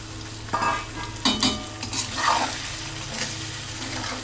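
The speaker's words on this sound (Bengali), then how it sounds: "এখন আলু আর মুগুর ডাল, টমেটো, কাঁচামরিচ এটা একটু ভালো করে তেলে ভেজে নিব" Potato, moong dal, tomato and green chili frying in oil in a pan, with a steady sizzle and a few scraping stirs and clinks of a spatula, close and clear without voices.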